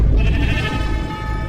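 Minecraft sheep giving a single loud, close bleat in the video game, with no speech over it.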